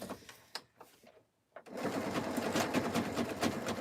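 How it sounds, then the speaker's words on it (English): Sewing machine stitching a jelly roll rug: a few scattered clunks and a brief pause, then the motor starts and runs in a steady, loud, rapid needle chatter that continues to the end. "Hopefully it's sewing well"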